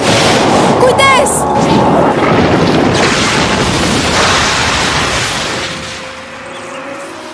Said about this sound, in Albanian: Goditja elektrike!